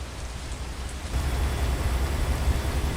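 Steady rain in American Truck Simulator, a broad hissing wash of droplets drumming on a truck cab, growing heavier partway through with a low rumbling undertone, continuous and close with no voices.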